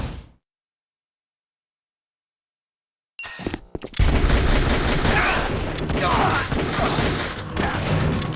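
Gunfire in the video game Metal Gear Solid: The Twin Snakes, breaking out after a few seconds of silence as sustained loud automatic bursts, with shouted voices mixed in.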